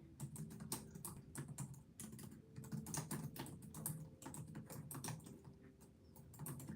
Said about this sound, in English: I'm typing that in the chat.